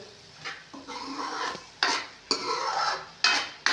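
Masala roasting in a pan for a black chickpea curry, stirred with repeated scraping strokes and knocks of the spoon against the metal over a light sizzle, close by.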